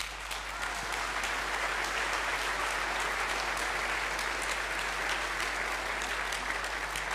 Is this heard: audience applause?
yes